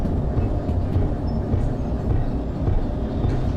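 A train runs steadily in the video game Derail Valley, a continuous loud low rumble and rolling drone with faint rattling on top and no pauses.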